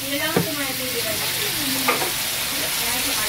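Chayote sautéing with a splash of soy sauce in a pan, a steady sizzle throughout with a couple of brief stirring scrapes, close and unaccompanied by talk.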